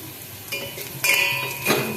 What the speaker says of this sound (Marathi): राई व्यवस्थित तडतडली फोडणी आणखी टेस्टी होते.